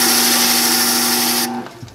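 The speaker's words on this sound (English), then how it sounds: "I'll deburr it first." Freshly cut key deburred on a machine, a loud, close, steady motorized grinding whir with a constant hum that stops abruptly and leaves a brief quieter clatter.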